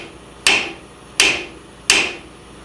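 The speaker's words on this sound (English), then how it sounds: "I want to wrap this with a hammer a couple of times." Three sharp, evenly spaced metallic hammer strikes ring out up close as a lower ball joint on a 2005-2015 Nissan Xterra is tapped into its seat, each hit decaying quickly, with no talking.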